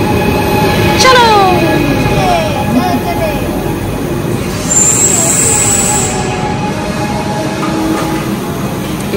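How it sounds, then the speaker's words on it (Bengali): A local train in Monaco rumbles along with rising and falling whining tones and a high squeal partway through, loud and close, with voices talking over the steady ride. "আমরা লোকাল ট্রেনে চড়ে ফেলেছি।"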